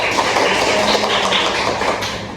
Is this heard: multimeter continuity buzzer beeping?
no